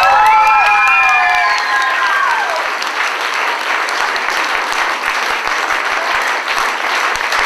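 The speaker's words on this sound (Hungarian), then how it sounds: "Taps!" Loud crowd applause with cheering and a few high whistles at the start, steady clapping continuing throughout, at a talent contest winner announcement in Balatonszárszó, Hungary.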